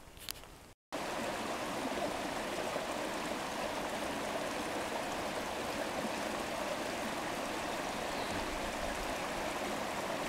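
A stream runs at a water point about five kilometres along the Lac Joe trail. Close, steady rushing and trickling water continues throughout, broken only by a brief dropout near the start.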